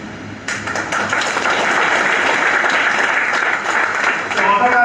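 Meeting audience bursts into loud, sustained applause, dense clapping rising suddenly and holding steady at close range.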